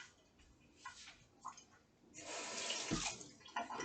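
Tap water runs in a kitchen sink while dishes are rinsed and washed, starting as a soft, intermittent trickle and then swelling into a steady, louder splashing rush that continues to the end. No one speaks.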